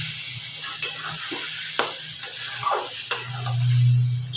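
Bottle gourd curry is stirred in the pan after water goes in: a moist sizzle with several crisp ladle scrapes and clicks over a low steady hum, growing briefly louder near the end.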